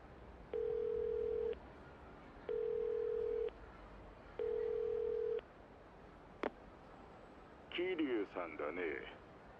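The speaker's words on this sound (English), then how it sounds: "let's go on ahead and activate the phone" A phone being activated in the video game Yakuza 0 gives three evenly spaced, steady ringing tones. A sharp click follows, then a short burst of voice near the end.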